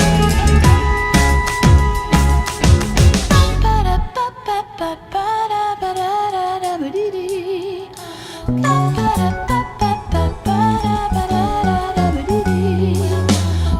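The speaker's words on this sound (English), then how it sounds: "It's kind of a mixture of like the bass and like these chimes timed together." Bass notes and bright chimes locked together in an electro-swing song, loud and dense, with a full mix dropping briefly to a sparser melodic passage before the beat returns.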